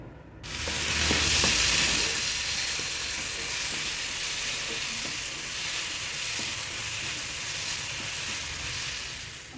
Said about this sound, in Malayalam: ഈ സവാള നമുക്ക് ഇതിട്ട് വഴറ്റിയെടുക്കാം കേട്ടോ